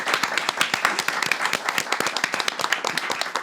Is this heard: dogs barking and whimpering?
no